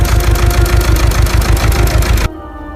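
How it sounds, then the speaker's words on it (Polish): A tractor engine runs loud and close, throbbing steadily with a regular chugging pulse, then cuts down abruptly to a quieter hum near the end. "Gdzie można na ciągniku jechać?"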